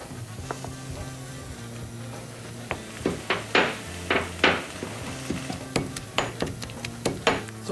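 Mushrooms cook with caramelized onions in a pan, a low sizzle under repeated sharp clacks and scrapes of a utensil against the pan, close and fairly loud.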